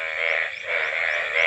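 Rain frogs croaking in a loud, continuous chorus of overlapping rasping calls, close and steady throughout with no talk.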